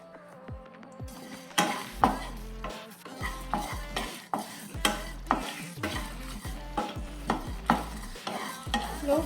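Dry red chillies and spices are dry-roasted in a hot kadai, with close, repeated scraping and stirring strokes of a spoon against the metal over a soft sizzle, in an uneven rhythm of sharp knocks.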